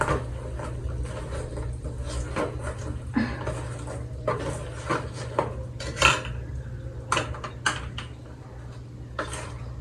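Fish pickle being mixed in a bowl, a close series of clinks and scrapes of a metal spoon against the vessel over a steady low hum, no talking.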